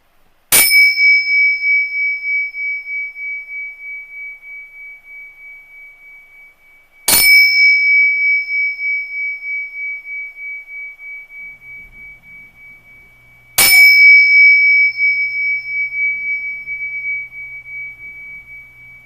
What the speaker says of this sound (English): let me sound the gong